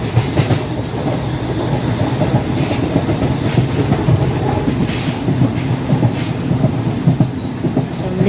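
In an Indian train driving 3D game, a train approaches with loud, continuous rumbling, rhythmic wheel clatter and some metallic squeal, filling the whole stretch without talk.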